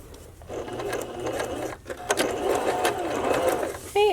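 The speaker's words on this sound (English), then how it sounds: "Okay, and then I'm going to stitch here on the" A sewing machine runs steadily for a few seconds, stitching twill tape along the edge of cut-and-sew foam for a bra, with a brief pause midway before the motor whirs again, close and clear.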